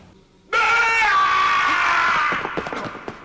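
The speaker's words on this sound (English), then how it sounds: "They hear a scream and our heroes are quick to find out where it came from." A loud, sustained scream from an anime episode erupts suddenly and holds for about two seconds, then breaks into ragged, fading cries.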